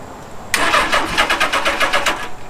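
A Suzuki GS850 scrambler motorcycle engine cranks on choke, the starter churning in a rapid, loud, rhythmic chug of about a dozen pulses without catching, close up and with no talk.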